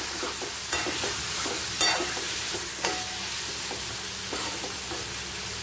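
A spicy mushroom butter roast is stirred in a pan, a spoon scraping and clacking at intervals over a continuous soft sizzle, close and fairly loud, with no voices.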